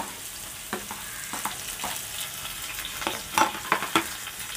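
Finely chopped onion and green chilli fry in hot oil, a steady medium-loud sizzle with several stirring scrapes and spoon knocks growing busier toward the end, no talking.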